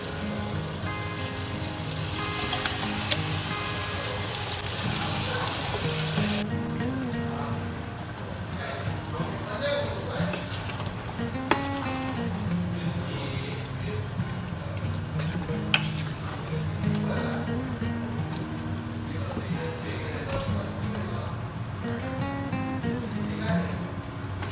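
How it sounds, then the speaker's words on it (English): Marinated mutton for a mutton kurma hits a hot pan with a loud burst of sizzling, then keeps frying steadily while it is stirred, with occasional scraping clicks and no talking. "at this stage I'm going to add my marinated mutton."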